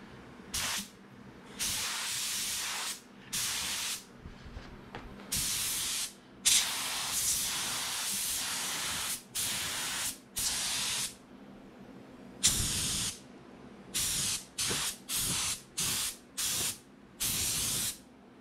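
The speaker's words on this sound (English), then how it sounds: "time to try to paint." Paint spray gun laying down sealer, a series of loud hissing bursts of one to two seconds each separated by short pauses, close by with no talk.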